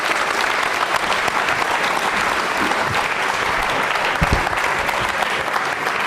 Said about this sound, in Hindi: तालियां बजाइए निहारिका के लिए, जोरदार तालियां बजाइए